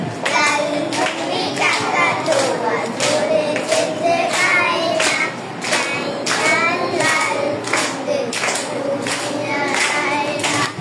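Children clap their hands softly along with a song, a regular, light beat of claps over the singing of young voices that carries through the whole stretch.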